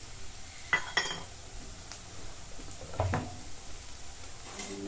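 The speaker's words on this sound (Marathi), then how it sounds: "कांदा चांगला भाजून घेते. तर कांदा चांगला गुलाबी रंगापर्यंत भाजून घेतलाय. काजूचे तुकडे टाकून घेते काही." Onion and cashew pieces fry in a pan, giving a quiet, low sizzle with a few sharp clinks and scrapes of a spoon stirring.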